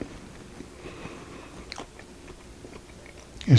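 Crunchy, cheesy jalapeno bread baked in a Dutch oven being bitten and chewed, with soft mouth noises building to one loud, close crunch at the end.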